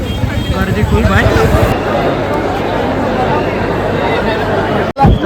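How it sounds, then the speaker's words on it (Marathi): Dense crowd hubbub fills a packed Mumbai Ganpati pandal during the 2024 festival, with many overlapping voices chattering close by in a continuous wash that briefly cuts out near the end. "गर्दी खूप आहे."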